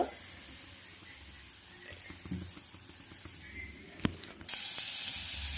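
Ginger, garlic and green chilli paste frying in oil for a samosa filling gives a soft, steady sizzle and hiss with a few faint pops, growing louder near the end.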